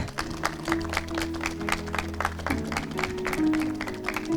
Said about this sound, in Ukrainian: Давайте, поки вони йдуть, ми плескаємо.